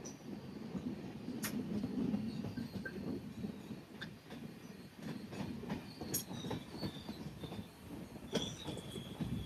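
The Madgaon Express rolls along the Konkan Railway with a steady rumble and clickety-clack of wheels, broken by sharp metallic squeals and clicks, heard from inside the train with no talk.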